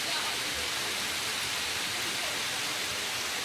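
The Cascata da Forqueta waterfall at Barra do Ouro gives a steady, broad rushing roar with no variation, unbroken throughout and without voices.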